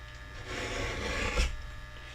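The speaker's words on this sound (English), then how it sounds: "as long as I was cutting the silver mirror card" Scissors or a blade cutting a narrow strip of silver mirror card for handmade cards, a steady close rasping rub that swells near the end, heard alone.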